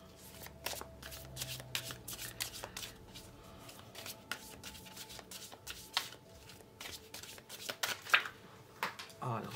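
Playing cards riffled and shuffled over and over for a card reading, a dense run of crisp flutters and snaps close by, with faint voices in the background.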